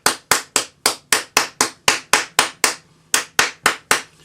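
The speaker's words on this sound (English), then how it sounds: "we're just going to hammer the edges" A rawhide mallet hammers the edges of a metal cuff bracelet held over a round ball, landing about fourteen sharp, close blows in a steady rhythm with one brief pause midway and no talking.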